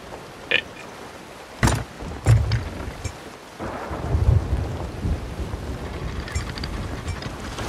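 A thunderstorm rages at sea in the video game Sea of Thieves: sharp thunder cracks strike several times early on, then a deep rolling rumble swells under a constant hiss of rain.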